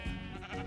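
A sheep in a hardcore survival game world gives a single short, faint bleat with a wavering tone.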